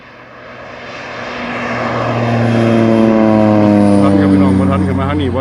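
Propeller crop-spraying airplane flying low over a garlic field in Israel: a droning engine grows steadily louder as it approaches and passes close by, the pitch shifting slightly toward the end, with no talk over it.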